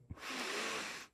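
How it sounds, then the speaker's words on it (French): A single deep breath, a soft audible intake followed by a long, steady airy exhale lasting about a second, close and fairly quiet. "Une respiration."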